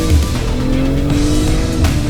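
BMW M440i coupe with a sound-enhanced exhaust: a steady, loud engine and exhaust drone with a low rumble, heard up close for a couple of seconds, with a slight tire squeal layered over it.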